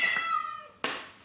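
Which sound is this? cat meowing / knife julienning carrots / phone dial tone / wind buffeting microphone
cat meowing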